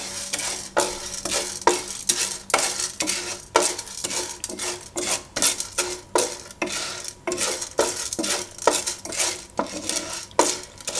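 Corn kernels for caramel popcorn being stirred through oil in a pot, with steady rhythmic scraping and rattling of a spoon against the metal, close and fairly loud, no voices.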